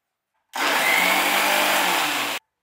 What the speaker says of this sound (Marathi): आणि थोडंसं पाणी घालून मी ही चटणी मिक्सरमधनं वाटून घेते.